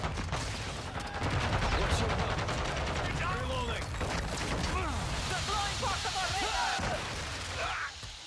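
Video game gunfire during a Hardpoint match on the Dome map, dense rapid bursts of automatic fire nearly continuous across the clip, with voices talking over the shooting.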